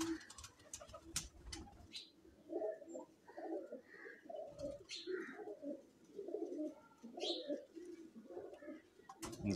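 Lakha pigeons on a rooftop coo in repeated soft, throaty phrases close by, overlapping one another, with scattered sharp chirps and wing or foot clicks around them.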